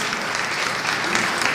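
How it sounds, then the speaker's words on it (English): A dense, steady round of applause from an audience at a civic art announcement fills the moment with continuous clapping and no gaps. "let's have another round of applause for Harriet and Jessica, the project champions"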